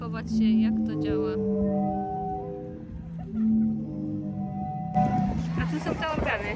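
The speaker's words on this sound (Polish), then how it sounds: "A tu są te organy. Słychać dźwięk." Zadar sea organ in Croatia, its pipes sounded by waves, giving soft drawn-out tonal hoots that rise and fade in slow swells, with people talking nearby partway through.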